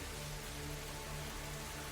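Rain falls in a dense, steady hiss with a faint low hum underneath, unbroken and even from start to finish with no voices.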